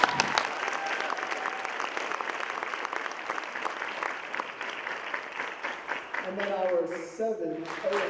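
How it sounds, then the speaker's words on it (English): A school spring concert audience applauds in a steady wash of clapping, with a voice speaking over it before the clapping fades toward the end. "Give them a round of applause."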